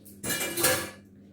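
Blended meat and onion are scraped out of a blender jar with a small spoon, one short burst of metal-on-plastic scraping and clatter lasting under a second, close and moderately loud, with no talk.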